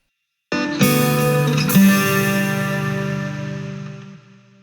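A single guitar strum rings out, followed quickly by a second struck chord, both sustaining and slowly fading with a bright, shimmering processed tone.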